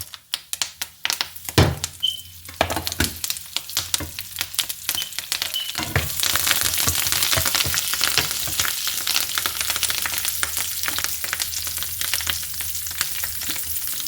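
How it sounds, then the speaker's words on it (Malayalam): Whole spices, cumin, cinnamon, peppercorns, dried chili and curry leaves, hit a hot pan with scattered sharp crackles and taps, then burst into a loud, dense, steady sizzle from close by. "ഈ പാനിലേക്ക് ഞാൻ ഇതെല്ലാം ആഡ് ചെയ്ത് കൊടുക്കുകയാണ്. ചെറിയ ജീരകം, കറുവപ്പട്ട, അതേപോലെ കുരുമുളക്, ഉണക്കമുളക്, വേപ്പില"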